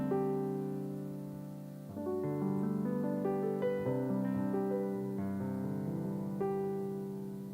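Waves Grand Rhapsody piano plugin plays a slow sequence of sustained, ringing chords at a soft, even level, with no voices over it.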